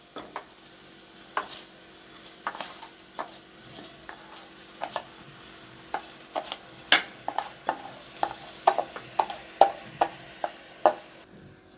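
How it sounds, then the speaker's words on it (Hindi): Rice tipped into a pan of lightly fried vegetables for veg pulao, giving a run of quiet clinks, scrapes and small pan knocks, sparse at first and then busier and more rhythmic toward the end, with no talking. "अब इसमें हम राइस को डाल देंगे।"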